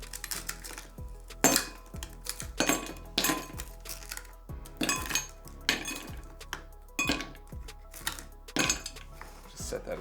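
Ice cubes are popped out of a freezer tray, giving a rapid series of sharp plastic cracks and clinks with a brief clatter after each, irregular and close-up, with no talk.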